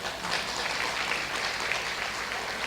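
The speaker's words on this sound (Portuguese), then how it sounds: "uma salva de palmas para a equipe de mídia lá" A church congregation at a Sunday morning service applauding, a continuous crowd of clapping, fairly distant and even throughout, with no talk over it.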